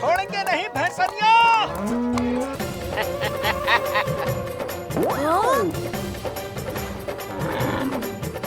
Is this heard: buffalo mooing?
yes